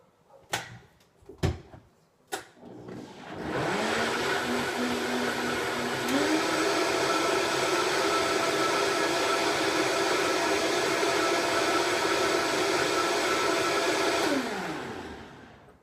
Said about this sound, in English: I'm going to blend that up again, kind of noisy